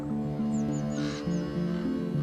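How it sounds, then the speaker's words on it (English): Ravens in a forest give harsh rasping caws, several short calls spaced over a couple of seconds, heard over a steady low tonal hum. "Ravens are big birds"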